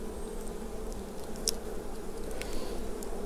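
Honey bees in an open hive during a summer inspection, a steady close buzzing hum with a few sharper clicks of frames and movement, no talking.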